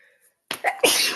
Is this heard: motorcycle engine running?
no